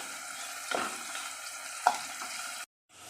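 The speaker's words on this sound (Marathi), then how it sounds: "आता मी कांदा थोडासा भाजून घेते" Onion frying in a pan for a prawn rice dish, a soft steady sizzle with two brief stirring scrapes before a sudden cut to silence.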